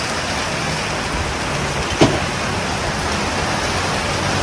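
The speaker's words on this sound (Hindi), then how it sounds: "काफ़ी तेज़ बारिश हो रही है।" Steady heavy rain pours down in a dense, continuous hiss, with one brief louder tap partway through.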